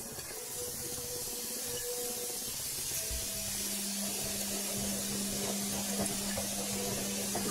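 Sliced carrots tipped into a hot oiled pan while making Korean-style funchoza glass noodles, giving a steady broadband sizzle and hiss that holds close and even throughout with no talking.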